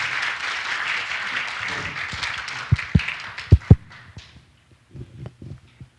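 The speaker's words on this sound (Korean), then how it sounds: "큰 박수 부탁드리겠습니다" An audience at a startup funding meetup applauds, with dense, steady clapping for about four seconds, a few louder claps near the end, then quick fading to near silence.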